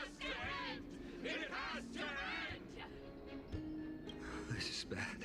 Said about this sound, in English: Cheering in excitement.